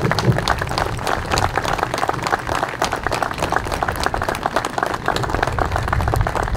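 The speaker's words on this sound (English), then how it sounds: "Please stand and let us recognize you with a heartfelt applause." A ceremony audience gives veterans a sustained round of applause, dense steady clapping from many hands filling the hall throughout.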